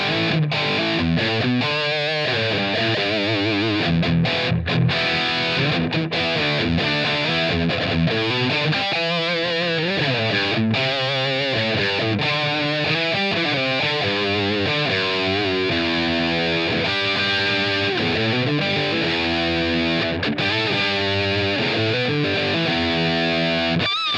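An electric guitar plays through a Rev Gen Red amp with reverb and the high and low shelf EQ switched off, giving a loud, distorted tone of sustained chords and melodic lines alone for over twenty seconds.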